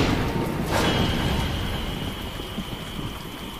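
Steady rain from a magical green downpour in a fantasy TV drama, a dense broadband hiss with a brief louder rumble near the start and no voices.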